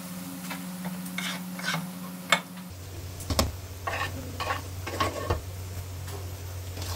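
A paste of ginger, garlic, chili, tomato and onion goes into a hot masala pan for dhaba-style matar paneer, giving a soft steady sizzle with scraping stirs and a few light utensil clinks on the pan.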